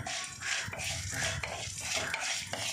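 Fenugreek seeds and black pepper dropped into hot oil in a pan for a Kerala-style fish curry, giving a continuous close sizzle with light scraping and stirring clinks throughout.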